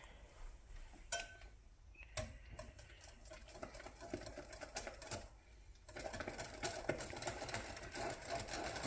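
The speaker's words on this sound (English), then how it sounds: "All right, she's going to whisk." A peppermint mold mixture is whisked briskly in a bowl, producing rapid, irregular clicking and tapping strokes that run throughout and grow busier toward the end, recorded close but fairly quiet.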